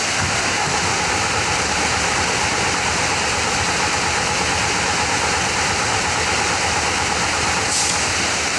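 A DAF CF 85 410 6x4 truck engine with low power turns over on its starter during a compression test, giving a loud, continuous, dense mechanical churning that holds steady throughout with no voices.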